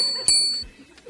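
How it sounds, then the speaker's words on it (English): A small bell rings twice in quick succession, a bright ding ding from a potty-training toy, heard fairly close amid faint room tone with a brief vocal sound around it. "And she makes the bell go ding ding."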